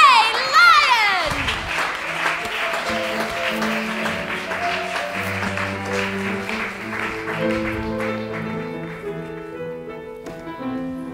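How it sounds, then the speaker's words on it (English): An audience claps and cheers in a theatre at a Christmas variety show. The applause is loud at first and then fades under music and talk. "Now, please, make the sound of clapping."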